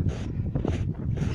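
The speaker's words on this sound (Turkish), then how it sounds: "Aşırı derecede böyle bir rüzgar var." Strong wind gusts roaring across an open snowy mountain road near Karaman in blizzard-like conditions, a steady broadband rush with surging peaks, close and alone without voices.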